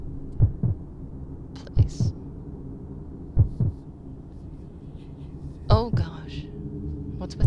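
A heartbeat sound effect in the game The Deep: heavy, close double thumps repeating roughly every one and a half seconds over a low hum, with a brief burst of voice or noise near the end.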